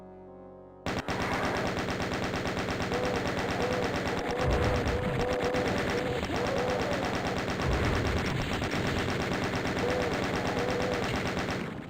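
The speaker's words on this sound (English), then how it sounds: "the chain gun is really bad at taking on those guys" Rapid, sustained automatic fire from the chain gun in Doom II, a steady loud rattle of shots running unbroken for about eleven seconds after a short quiet start, with lower booms mixed in.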